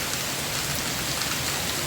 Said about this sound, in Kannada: ಎಷ್ಟು ಮಳೆ ಬರತೈತಿ.